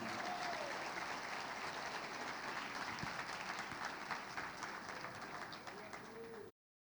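Church congregation claps to welcome a bishop, a broad steady wash of applause lasting several seconds at moderate distance with a faint tonal whistle or coo mixed in, then cutting off abruptly.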